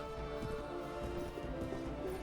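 Horse hooves galloping in the video game Mount and Blade: Warband, a steady, muffled patter of hoofbeats running continuously at moderate volume beneath a dense game soundscape.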